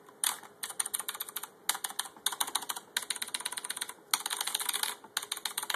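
Rapid, loud clicking of typing on a Razer BlackWidow mechanical keyboard, bursts of keystrokes with brief pauses, close up and with no voices.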